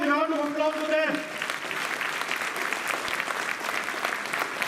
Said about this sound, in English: can we have a big, huge round of applause for them?